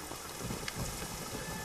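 Steady, dense rain falls in a continuous broadband hiss, loud and close, with no talking.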